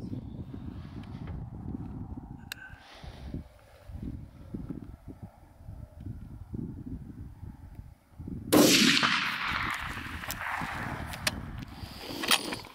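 A single loud rifle blast from a 6.8 Western loaded with 175gr Sierra Tipped Game King bullets, fired off a bipod on a table, cracks out after a stretch of low rumble and rings off in a long decay.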